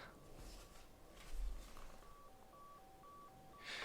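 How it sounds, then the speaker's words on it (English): Dialing tones from an RAC emergency ETACS bag phone transceiver: a quick run of short beeps in a steady series over faint background hiss, fairly quiet and with no talk. "If we dial the RAC number there and send,"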